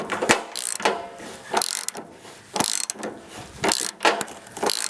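A ratchet works on the bolts of a Ford F-150 fuel tank during a fuel pump replacement, giving repeated bursts of sharp clicking strokes with short pauses between them, close and loud, with no talk.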